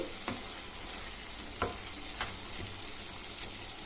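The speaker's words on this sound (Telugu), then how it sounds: "అడుగంటకుండా మనం ఆకుకూరని కలుపుకొని పెట్టుకోవాలి" Radish greens cook in a pan with a faint, steady sizzle and a few soft scrapes and taps as a spoon stirs them. The sounds are close and quiet, with no voices.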